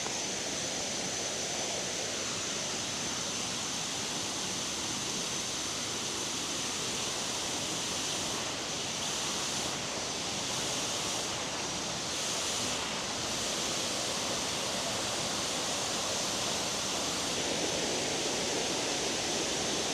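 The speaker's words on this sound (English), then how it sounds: "It's a very, very beautiful waterfall." Constant roaring rush of a waterfall at Doi Inthanon, Thailand, loud and unbroken, with no voices.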